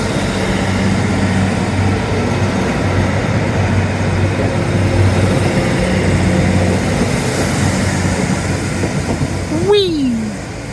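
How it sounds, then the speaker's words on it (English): A train rumbles steadily past near a riverside spot where swans are fed, its broad noise holding loud and even for the full stretch before a brief rising whistle-like squeal at the end. "I'll tell you all about them once this train has gone past."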